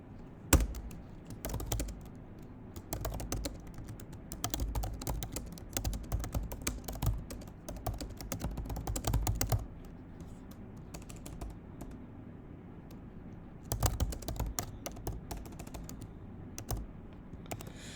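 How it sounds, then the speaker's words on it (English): Someone types on a computer keyboard in fast bursts of close, crisp clicks, with pauses of quiet between runs and one longer lull partway through. "We're going to keep typing until it fills completely with green."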